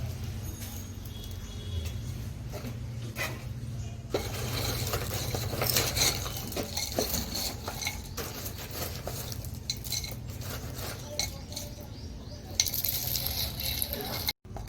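A small flower pot scoops a gritty soil mix for repotting rooftop-garden adeniums, giving continuous crunchy, rattling scraping close by, with repeated scoops blending into a steady grainy rustle.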